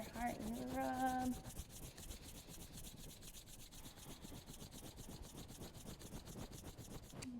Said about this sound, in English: And then we'll bring our hands together in front of our heart and rub.